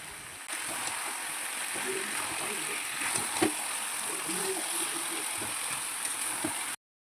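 Chicken sizzles steadily in a pan, a close, continuous frying hiss with a few sharp pops and faint clatter underneath.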